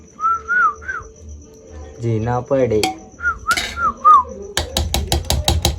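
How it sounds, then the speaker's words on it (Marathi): A person whistles a short melodic tune in bursts in a home kitchen while chicken biryani is made, with singing and sharp clinking taps of a utensil in between, close by. "मध्ये मध्ये शिट्टी मारायची रे, मग जरा चांगलं वाटतं"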